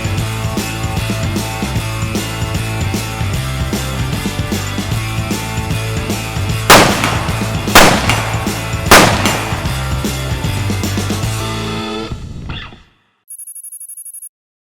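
Three sharp rifle shots at a shooting range, fired with Zeiss Conquest V4 scopes, crack out over steady loud backing music, evenly spaced about a second apart before the music fades out.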